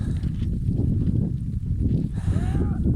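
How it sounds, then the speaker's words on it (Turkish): A winter flock of sheep is driven out to graze across railway tracks near Kars, with a steady shuffle of many hooves and a single drawn-out bleat near the end. "Koyunları götürüyorum otlatmaya."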